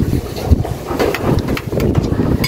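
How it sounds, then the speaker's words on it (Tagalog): Strong wind gusts roar and buffet the microphone steadily outdoors, a loud rumbling rush with no clear pauses. "Lakas ng hangin, grabe na naman."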